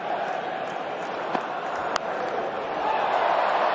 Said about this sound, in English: This crowd has woken up thanks to Will Jacks.